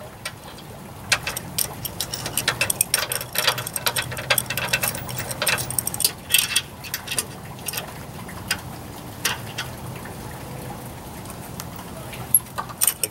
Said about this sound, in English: Now, since I tightened up these bolts on this one, I'll have to loosen up the bolts.